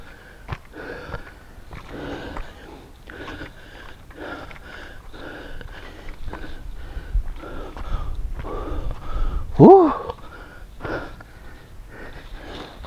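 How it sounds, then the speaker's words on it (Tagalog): Heavy, rhythmic panting close up, one rough breath after another at a steady pace, with a brief squeaky sound near the end. "Hingal ako."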